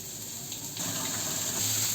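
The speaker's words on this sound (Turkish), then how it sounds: "Hemen ellerimi yıkayacağım." A kitchen tap runs while hands are washed under it, a steady close gush of water that grows slightly fuller after a moment, with no talking.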